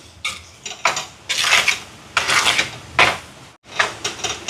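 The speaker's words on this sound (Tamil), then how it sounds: "நீங்களும் ஆர்டர் போடலாமா கலந்து விடுவோம்" Curry powder being stirred into a pot of curry for a spicy kuzhambu, a metal spoon scraping and knocking against the pot in several loud bursts separated by short pauses, with no voices.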